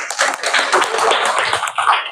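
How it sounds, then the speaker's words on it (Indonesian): A classroom of students in an Indonesian-language lesson breaks into applause for a group, a dense, steady patter of many hands clapping close by for about two seconds, with no talking. "Kelompok mandiri, tepuk tangan."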